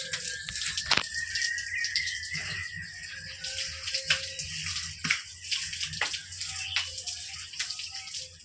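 Tap water runs steadily into a basin while someone washes their face at home, with a few splashes and clanks over the flow and faint birdsong in the background.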